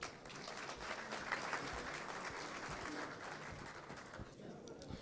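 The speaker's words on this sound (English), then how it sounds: "Let's give Abdullah a big round of applause." Faint, distant applause from a conference audience at a security event, steady clapping that thins out near the end, with a few indistinct voices in the room.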